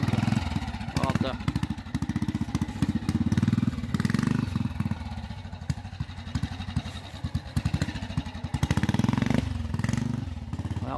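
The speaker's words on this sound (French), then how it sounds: "La moto magnifique, une vraie ancienne." Vintage trial motorcycle riding at a trials event in Lure, its engine revving and chugging unevenly, with loud bursts between quieter stretches under nearby talk from spectators.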